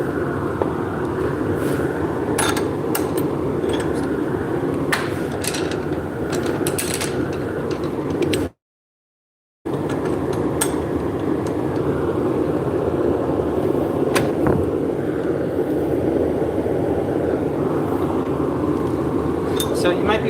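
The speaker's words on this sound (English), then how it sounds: "I'm waiting for the lathe to slow down" A lathe spins down, giving a steady mechanical whir and rattle that runs throughout, with one brief cut to silence in the middle.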